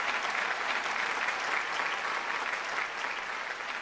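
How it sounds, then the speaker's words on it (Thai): An audience at an Amway double diamond pin award ceremony claps steadily, a dense, sustained wash of applause that stays even and fairly loud throughout without any clear voices. "ปรบมือได้ครับ"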